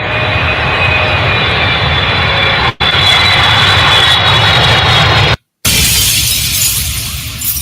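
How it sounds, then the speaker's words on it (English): Sound effect of an airplane coming in to land and crashing: a loud, continuous jet-engine roar with a shattering, glassy crash, broken by two brief silent gaps. "You notice every time your plane land, it crashes"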